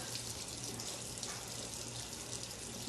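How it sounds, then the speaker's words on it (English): Cold water from a kitchen tap runs steadily into a sink over food being prepared, a constant close splashing rush that continues unbroken, with no voices. "I'm putting it back under the cold water."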